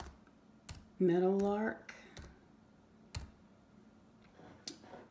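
Computer keyboard typing with a few separate crisp key clicks spread out over several seconds, close and quiet, with a brief spoken word partway through.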